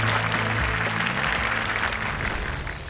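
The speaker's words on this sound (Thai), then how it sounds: "ปรบมือด้วยนะครับ" A studio audience at a televised innovation awards competition applauds in a dense, steady wash of clapping that holds for a few seconds and slowly eases off, with a low hum underneath.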